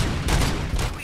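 Rapid bursts of gunfire in RoboCop Rogue City, loud, dense cracking volleys with two sharper surges amid continuous shooting noise.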